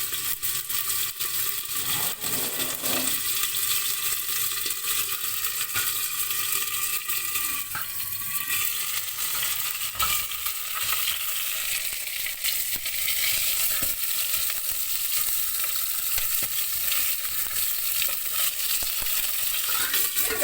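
Steady, dense sizzling of artichoke bottoms frying in hot olive oil, continuous and fairly loud throughout with occasional stirring clicks.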